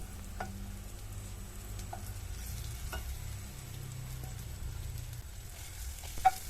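Sautéed okra stirred into a chili masala in a pan, with a faint, steady sizzle and occasional soft clicks of a spoon against the pan.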